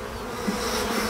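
Honey bees in a hive calmed with smoke give off a steady, low buzzing hum, moderately quiet and continuous over a brief moment, with no voices.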